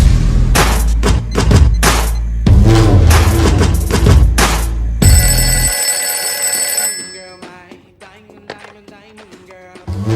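A telephone rings in a Telugu comedy film scene, a steady electronic bell tone sounding mid-clip after loud music and thumps, clear and fairly close, with the rest quieter.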